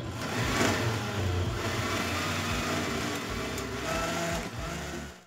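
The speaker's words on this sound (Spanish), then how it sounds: "Vamos a licuar." Electric blender running continuously, liquefying cooked beans with broth into a sauce for enfrijoladas; a steady, loud motor whir with a churning, sloshing texture lasting about five seconds and cutting off at the end.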